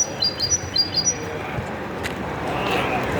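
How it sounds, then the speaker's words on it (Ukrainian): Small birds chirp in a city residential courtyard, with several quick, high tweets clustered in the opening second before fading beneath a faint outdoor background hum. "як пташки тут співають"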